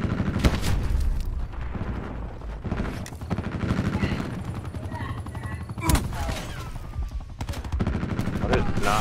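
Gunfire in a hardcore Kill Confirmed match on the Firing Range map: rapid automatic bursts and heavy booms in quick succession, loud and close, with players talking between the shots.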